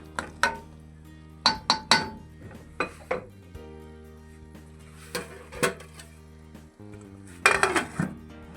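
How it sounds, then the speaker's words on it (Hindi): Metal clinks and clanks of a lid being set onto a cooking pot of egg and pea masala, several sharp rattles and taps close by with quiet pauses between them. "तो मैं ढकना लगा रहा हूँ"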